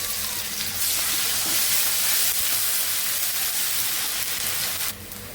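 Ginger garlic paste hitting a hot frying pan, giving a loud, steady hiss and crackle of sizzling that holds for several seconds and then drops away at the end.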